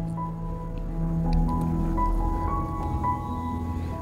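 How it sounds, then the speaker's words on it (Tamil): Washed soya chunks are squeezed by hand to press the water out, giving soft wet squishes and faint drips over a few seconds, close and quiet with a faint background hum. "அதில் உள்ள தண்ணி எல்லாத்தையும் நான் பிழிஞ்சு எடுத்துக்கிறேன்."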